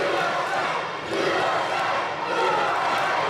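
A wrestling crowd at a Bulldog Bash last-man-standing match roars and shouts continuously, a loud, dense wall of cheering with no break throughout.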